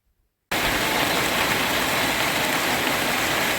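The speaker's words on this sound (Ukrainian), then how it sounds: "а у нас знову дощ" Heavy rain falling outdoors in a garden during a thunderstorm, a sudden loud, dense, steady hiss of downpour that starts after a brief silence and continues unbroken.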